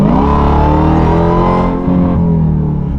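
A 2023 Dodge Durango Hellcat with its mufflers deleted revs loudly and close, a deep sustained engine roar whose pitch climbs and then settles over a few seconds, with no voices.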